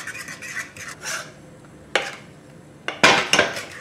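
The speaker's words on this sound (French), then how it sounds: "il vaut mieux utiliser une petite fourchette pour mélanger" A small fork stirs mirror glaze in a bowl, producing quick scraping and rubbing strokes and sharp clinks against the container, close and fairly loud.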